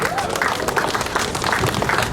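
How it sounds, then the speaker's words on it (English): Applause at a memorial event in Boston, a short stretch of dense clapping from a crowd, steady and fairly close throughout, with faint voices mixed in. "let's give a hand applause to Mandy Chan."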